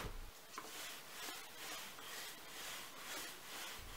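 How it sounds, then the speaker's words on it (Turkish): Rolling pin working a floured ball of poğaça dough on a board, a soft steady rubbing swish with broad rhythmic strokes, close and moderately loud, with no talking. "Üzerine mutlaka un serpiştirdikten sonra merdaneyle açıyoruz."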